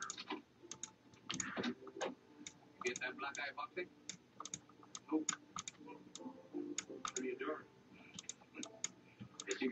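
Computer mouse clicks while editing an image, many quick faint ticks scattered throughout, close and soft, mixed with quiet murmured talk and rustling.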